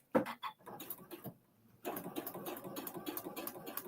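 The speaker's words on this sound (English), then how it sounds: "I'm going to give a little backstitch." A sewing machine stitches a foundation paper-piecing quilt block in short bursts, a brief pause near the middle, then a steady run of rapid stitching that carries on to the end, no voices present.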